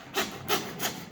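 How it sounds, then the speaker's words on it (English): A handsaw cuts through pork bone while a hog is butchered on a homestead, three slow, rasping back-and-forth strokes close up and alone, each pass swelling and fading. "So let's get sawing through the bone right here."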